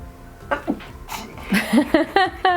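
A single sneeze bursts out amid a flurry of voiced sounds, followed by a series of short, high, squeaky vocal yelps.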